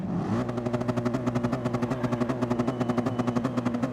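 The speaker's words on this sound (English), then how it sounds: "wait for the lights, the revs will build in a second" A racing engine drones steadily at high revs with a fast rhythmic pulsing, loud and mechanical, sounding synthetic like a driving game.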